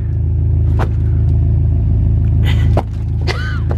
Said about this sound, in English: Car is ready, warmed up.